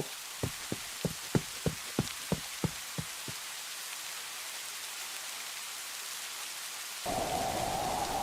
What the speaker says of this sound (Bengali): যেমন বৃষ্টি হচ্ছে তেমন ঝড়